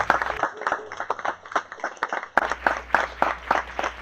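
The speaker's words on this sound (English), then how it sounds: "Y'all, please give these candidates a warm round of applause." A church congregation at True Love Church claps for political candidates in a short burst of applause from a modest crowd, lively and close, with a few louder individual claps standing out.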